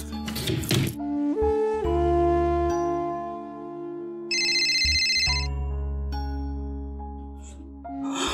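A phone ringtone announces an incoming call in a Marathi TV serial scene, a sustained melodic electronic tune with a bright chiming burst midway, playing loud and alone without talk.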